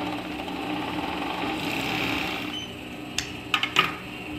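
An overlock sewing machine runs steadily while stitching folded elastic onto the waistband of a circular godê skirt, a continuous mechanical whir with a few sharp clicks near the end.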